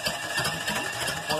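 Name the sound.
Chevy 305 engine being turned over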